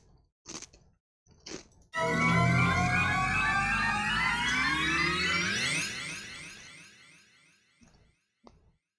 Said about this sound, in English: Plays right before Flowery's fight when gaining power from his recruits.